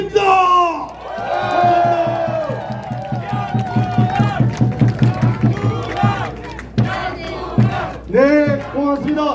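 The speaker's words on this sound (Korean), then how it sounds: "다시 한번 박수 한번 주시기 바랍니다." Crowd at an outdoor election campaign rally in a plaza, cheering and chanting in a loud rhythmic surge with clapping, overlapping a voice over the PA.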